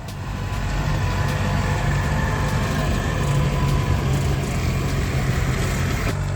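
A tractor towing a water tank drives over a dry, dusty yard to wet it down, its engine a continuous low drone with a steady rumble that stays close and loud throughout, with no talk.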